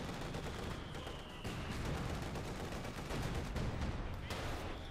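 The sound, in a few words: IS-2 tank main gun and machine gun firing in video game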